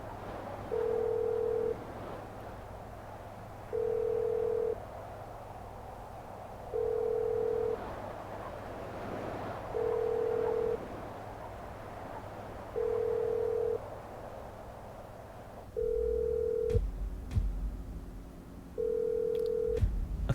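Telephone ringing glitch in GTA: a repeating electronic ring tone pulses regularly, about once every three seconds, over a low steady hum. Near the end brief clunks and noise bursts break in.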